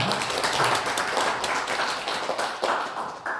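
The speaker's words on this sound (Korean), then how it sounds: "격려의 박수 한번 부탁드리겠습니다" A small group at a church New Year gathering claps continuously, a steady patter of applause that gradually thins toward the end.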